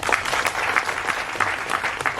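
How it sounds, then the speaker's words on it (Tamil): An audience claps for actor Vijay at a film event in a short, lively burst of close, continuous applause. "அவருக்கு ஒரு கைத்தட்டு தரலாங்க"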